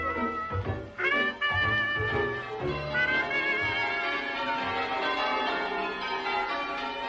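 Several English church bells change ringing in a rolling, overlapping sequence, each stroke leaving a long shimmering hum as the peal continues steadily.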